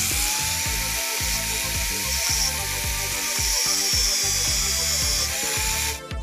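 An electric grinder cuts through a metal rear disc brake stopper on a Suzuki Smash 115 motorcycle, giving a loud, continuous high whine over rhythmic grinding strokes that stops abruptly near the end.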